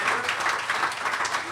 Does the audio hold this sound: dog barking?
no